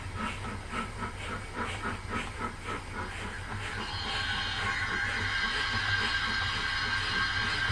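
A model locomotive runs on a home layout with a steady hiss and a soft rhythmic chuffing beat, getting a little louder and brighter partway through, heard alone at a modest distance.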